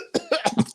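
A person coughs in a quick burst of four or five harsh, close hacks in an uneven rhythm, loud and alone, like someone choking on something.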